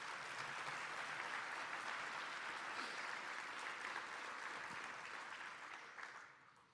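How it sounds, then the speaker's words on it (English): An audience at a leadership luncheon gives a sustained round of applause, dense steady clapping that holds evenly for several seconds before tapering off at the end. "please give him a round of applause and thank you."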